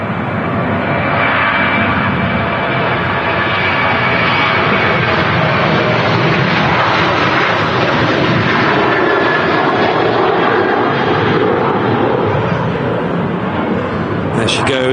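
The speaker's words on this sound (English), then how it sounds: "Ryanair rolling to Nantes in France." A Ryanair airliner rolls out at Manchester Airport to depart for Nantes, its engines producing a loud, steady, broadband roar that holds throughout.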